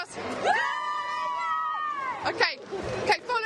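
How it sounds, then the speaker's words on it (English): An outdoor crowd shouts and cheers at a live evening news broadcast, with a long sustained raised voice followed by bursts of excited yelling and babble. "Give us a big cheer for us."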